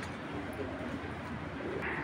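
Several pigeons, pairs offered for sale including a red checker hen, coo softly and steadily close by, their low murmuring calls blending into a continuous flock hum with a faint background hiss.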